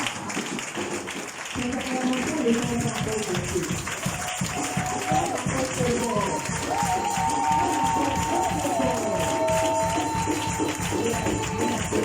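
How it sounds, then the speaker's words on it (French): Congregation at a church service stands and applauds loudly, a dense continuous wash of clapping with crowd noise that holds steady throughout, while voices and some tonal sound carry over it. "Est-ce qu'on peut d'abord se lever et applaudir très fort"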